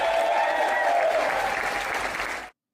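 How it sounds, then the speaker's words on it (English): Applause from a crowd at a paid breakfast event, dense steady clapping filling the room and then cutting off abruptly near the end. "And judging by the applause"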